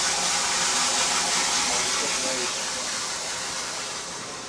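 Water in an aqua blasting machine spilling over from one port into the next, a steady broadband rushing gush that holds level and fades slightly at the end.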